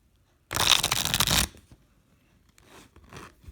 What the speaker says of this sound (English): Let's get a quick shuffle on these.